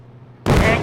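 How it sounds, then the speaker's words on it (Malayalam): A bomb blows up in the mobile game Indian Bike 3D, a sudden loud blast that breaks abruptly out of near-quiet game background and rumbles on heavily to the end. "നമ്മളിത് ബോംബ് ആക്ടിവേറ്റ് ആക്കാൻ പോവുകയാണ്"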